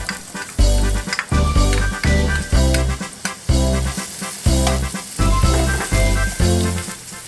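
Chopped onion sizzles in a hot pot, loud and close, with bursts of crackling frying broken by repeated rhythmic stirring or scraping strokes.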